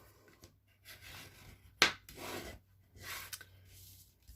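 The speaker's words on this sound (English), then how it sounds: "So I'll just fold that in half and burnish the edge." White cardstock is folded in half and its crease burnished, giving soft scraping rubs in several short passes with a sharper crackle of paper partway through, close and quiet.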